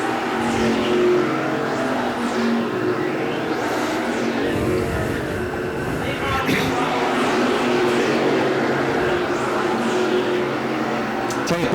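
SK Modified race cars roar around the oval at Thompson, engines loud and sustained with repeated swells as cars sweep past, and a commentator's voice faint underneath.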